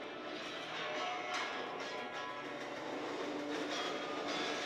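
Train wheels grind and roll along the rails in a movie scene, producing a faint, continuous rumbling clatter with scattered metallic scrapes throughout.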